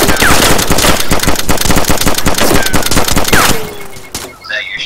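Rapid airsoft gunfire rattles in dense bursts, the BBs hitting a nearby wall, loud and close at an outdoor skirmish field. The firing fades near the end, with some voices in the background.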